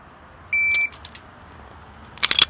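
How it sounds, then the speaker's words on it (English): Shooting range shot timer giving a single sharp electronic beep, followed by a few faint clicks and then a quick burst of close metallic snaps near the end in an otherwise quiet setting. "When you hear the beep, press the trigger immediately."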